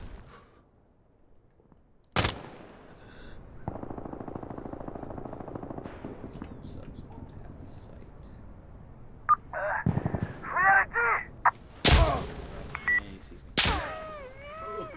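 In Insurgency Sandstorm, a single sharp rifle shot cracks early, then a steady rumble gives way to more gunshots and clattering effects toward the end, with moderate loudness and some metallic ringing.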